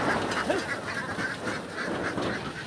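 A flock of farm ducks quacks repeatedly in overlapping bursts, moderately close, over a steady background hum.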